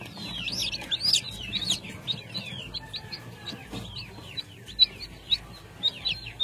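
Newly hatched chicks in an incubator peep in quick, high, overlapping chirps that continue throughout, with soft clucks and a low background rumble.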